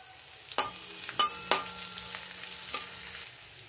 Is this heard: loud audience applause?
no